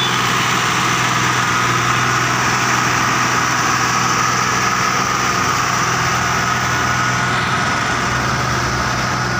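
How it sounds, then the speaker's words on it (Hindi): A Swaraj 855 tractor engine runs steadily and loudly throughout, a constant droning rumble with no pauses and no voices. "स्वराज ट्रैक्टर"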